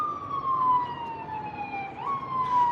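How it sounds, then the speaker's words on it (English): An ambulance siren wails on a city street in Los Angeles, a loud sustained tone sliding slowly downward and then jumping back up as the vehicle closes in, with no talking over it. "here comes the ambulance is coming from a block away"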